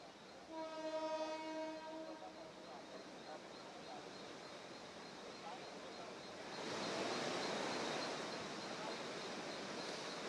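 At CSMT railway station in Mumbai during heavy rain, a train horn sounds early as a sustained tonal blast. A dense hiss of rain and rumble follows and swells louder toward the end.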